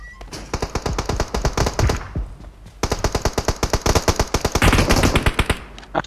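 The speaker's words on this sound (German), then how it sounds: "Achtung, sie schießen." Enemy gunfire in PUBG Mobile arrives as two rapid bursts of automatic fire, loud and close, with tightly spaced repeating shots and a short pause between them.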